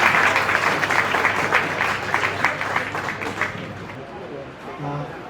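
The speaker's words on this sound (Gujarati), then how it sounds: "એકવાર જોરદાર તાળીઓથી એમની જીતને વધાવીએ" An audience at a Surat family gathering breaks into loud, sustained applause that slowly fades over several seconds, with voices mixed into the clapping.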